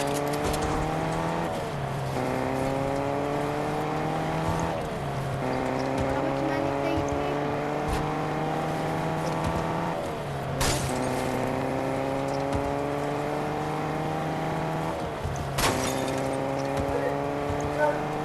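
A car drives in Fortnite with a steady engine drone whose pitch climbs and then drops back with each gear change, along with occasional sharp clicks and thumps. Voices talk over it.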